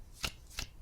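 Playing cards are shuffled at a poker table in two quick, crisp riffling bursts, close and clear, with no one talking.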